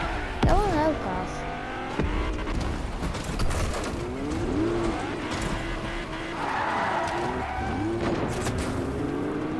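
A car driven in the video game Fortnite, with a steady engine drone, tire skids and squeals, and sweeping engine pitch changes, while a player talks over much of it and other game sounds mix in.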